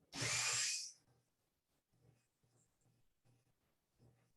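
A high-pitched Dremel rotary tool at about 4,000 RPM whines briefly against craft foam with a sanding barrel for under a second, then fades to quiet scraping and faint handling sounds.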